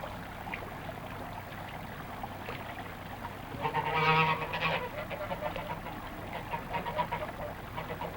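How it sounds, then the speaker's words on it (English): Geese honk in an outdoor setting, a short cluster of calls rising over a steady background hiss and then fading into scattered faint honks. The sound is fairly distant. "And there were geese,"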